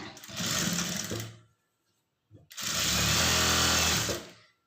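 An electric sewing machine stitches a blouse side seam in two rapid whirring bursts separated by a short pause, close and clear.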